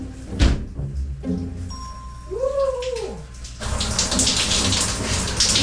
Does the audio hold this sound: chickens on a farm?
no